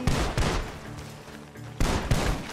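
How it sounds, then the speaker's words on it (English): Gunfire in the Red Dead Redemption 2 video game: several sharp, loud shots in two clusters, at the start and near the end, with quieter background between. "The gunshots are coming."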